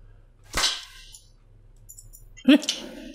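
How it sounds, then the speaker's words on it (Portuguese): Two sharp electronic zaps from a taser in a video game, a second apart, each a quick burst with a short crackling tail, against a quiet background. "Tirinho de taser. É tirinho mesmo."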